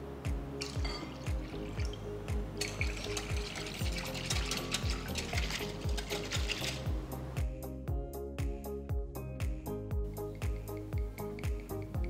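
Water poured into a bowl holding a spoonful of curd and stirred together, a steady trickle and splash close by with a rhythmic scraping stir, set against a constant rhythmic background beat.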